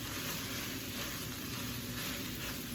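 Ground turkey sizzling steadily in a pan for a green bean stir fry, a soft, even crackling hiss with no talk.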